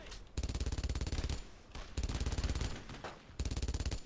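Three long bursts of rapid automatic machine gun fire rattle out in Brothers in Arms: Road to Hill 30, separated by short pauses and heard alone at moderate distance.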